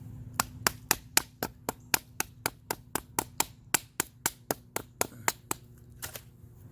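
A Frost Cutlery TacForce lockback knife is hammered into hard material in a steady series of about twenty sharp, loud blows at a regular pace, each strike crisp and close with no talking.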